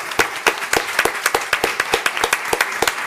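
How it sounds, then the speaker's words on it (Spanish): Rhythmic group clapping from an audience at a science education event in Uruguay, sharp evenly spaced claps close and loud, continuing steadily without talk. "yo quisiera un aplauso para Beatriz en medio de esta."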